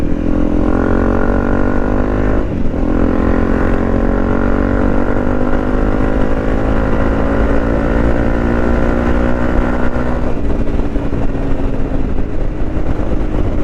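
A Honda CRF 250 Rally engine runs loud and close, steady with rising harmonic sweeps as it accelerates through gears, a brief dip around a shift, and no voices.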